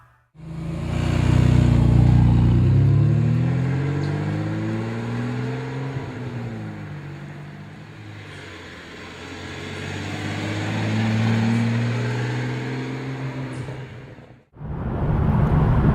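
A Ferrari 612 Scaglietti engine rises and falls in pitch as it accelerates and cruises on a highway, with steady road and wind noise around it, then a brief drop near the end.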